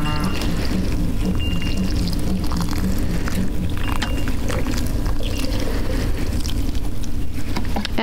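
Outdoor plant pots being watered, a continuous close rush of pouring water over a steady low rumble, with no one talking.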